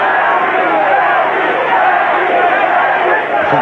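A boxing crowd, apparently in Italy, roars for fighter Yawe Davis during his bout with Frank Tate, a dense, loud, continuous wall of shouting voices with no break.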